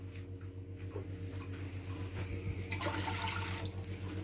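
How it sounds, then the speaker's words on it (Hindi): Two glasses of water are poured into a cooking pot on a lit stove for a mutton and mixed vegetable dish, heard as a soft splashing pour over a low steady hum, fairly quiet. "2 गिलास पानी डाला है"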